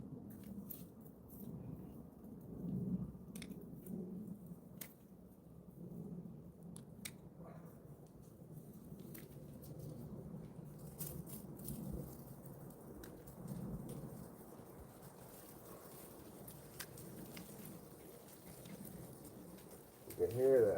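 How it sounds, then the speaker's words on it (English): An approaching thunderstorm, with low thunder rumbling and rain pattering steadily, some sharp drips and a few quick snaps on top throughout. "You can hear the storm coming in."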